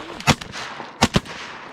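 Three sharp shotgun blasts fired at a mallard during duck hunting in a flooded cornfield, close and loud, one shot followed by a quick pair after a pause.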